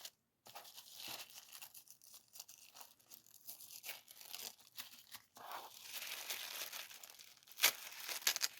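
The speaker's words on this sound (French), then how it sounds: "Ah, je vais être obligée de le déchirer." A plastic packet is torn open while unboxing a parcel at home, giving a close, steady run of ripping and crinkling that rustles on for several seconds, with a sharper crackle near the end.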